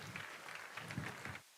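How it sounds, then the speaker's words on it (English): A crowd at a city's State of the City address gives a short burst of applause for a library director, steady clapping for about a second and a half before it cuts off. "Let's give Brian a round of applause."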